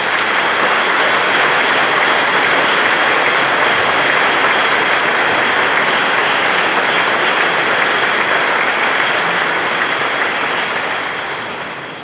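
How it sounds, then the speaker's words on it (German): A large audience at a senate reception in Hamburg City Hall applauds loudly and steadily for about twelve seconds, the clapping unbroken, then fading at the close. "das ist auch ein großer Applaus."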